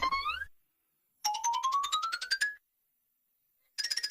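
Phone ringing during a call, rising electronic tone patterns repeating in bursts with silent gaps, clear and close with no talk over it.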